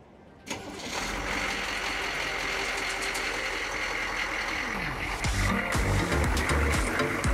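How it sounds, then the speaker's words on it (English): A Humvee with a bad fuel leak cranks and fires up, then settles into a steady, loud, close diesel-style idle with a deep low rumble that holds throughout, briefly shifting in tone near the end. "I started the engine just for, I don't know, less than a minute"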